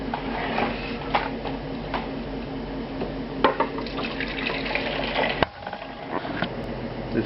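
Chicken juices pour steadily from a fat separating pitcher in a restaurant kitchen, a continuous close trickle and splash that cuts off abruptly, leaving a quiet drip.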